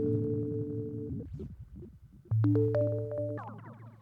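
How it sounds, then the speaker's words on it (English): A MASK1 bitmask oscillator synthesizer plays sustained tonal notes through a delay effect, with repeats shifting in pitch and fading, then a new layered chord with stepping echoes, moderately quiet and without voices. "Our delay, you can hear it shifting and changing."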